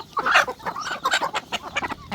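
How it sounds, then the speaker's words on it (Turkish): A flock of village chickens on a chicken farm clucks nearby, a rapid overlapping chatter of short, bright calls. "bak şunlar köy tavuğu."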